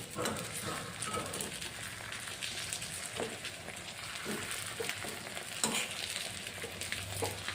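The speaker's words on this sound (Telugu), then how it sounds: "రెండు వేపులా అవి క్యాప్సికమ్ చక్కగా వేగాలి" Capsicum pieces frying in a little oil in a pan for capsicum masala: a busy, crackling sizzle throughout with frequent small pops and occasional turning scrapes, close and steady.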